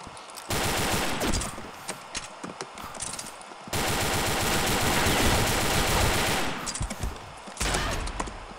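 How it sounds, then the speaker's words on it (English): INSAS Pump Jack rifle firing in the shooter game Combat Arms: loud, close bursts of rapid automatic gunfire in several long strings separated by brief pauses, with no talking. "Tap firing is pretty good with this gun if you can control the recoil."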